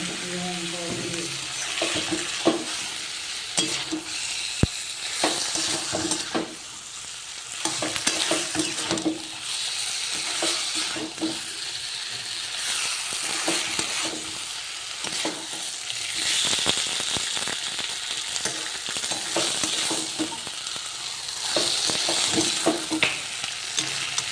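Chicken masala sautéing in a pan, a steady sizzle with repeated scraping stirs running throughout, close and moderately loud, with a tap running in places.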